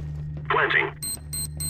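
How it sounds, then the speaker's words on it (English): A bomb planted in CS:GO: a short burst of announcer-like voice, then a rapid series of high electronic beeps over a steady low hum. "Bomb has been planted."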